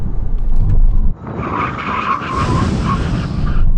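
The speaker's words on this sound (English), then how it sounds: "now we're going to do a brake test from 70 miles an hour" Hard braking from 70 mph by a Nissan GT-R Nismo, Audi RS6 and Porsche Panamera Turbo S, loud engine roar cutting off into a long, rising squeal of tyres skidding on tarmac.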